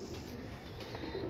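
Sialkoti pigeons cooing on a rooftop, a soft low murmur of coos running steadily through moderate background noise with no talking.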